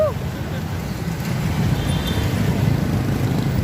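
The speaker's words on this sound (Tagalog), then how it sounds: "Grabe ang mga sasakyan yun" Steady road traffic rumbles past close by, with cars and larger vehicles making a continuous engine and tyre roar that grows a little louder partway through.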